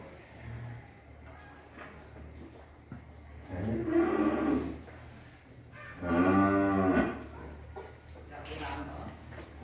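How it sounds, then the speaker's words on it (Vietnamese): Cattle moo loudly twice in close succession during loading onto a cage truck at a farm, over a steady low engine hum and background noise. "Bò trực tiếp lên xe giao cho khách ở dưới Rạch Dầu. Rồi, chuẩn bị lên xe đi xe lồng."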